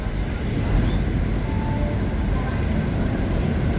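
Telangana Express passing at Nizamuddin station, a loud continuous low rumble and roar of the moving train, steady and close throughout with no clear individual clacks.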